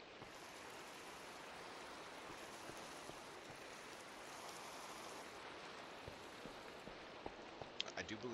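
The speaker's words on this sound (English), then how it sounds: "I guess it's raining and you can't go to sleep." Steady rain in the Minecraft video game, a continuous broadband hiss of falling water with scattered drop patter, soft and even throughout, with a few clicks near the end.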